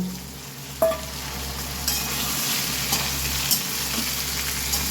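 Fried hilsa fish heads and green chillies go into a pan of potato and pumpkin curry. A close, steady sizzle continues under repeated stirring scrapes and a few sharper knocks against the pan.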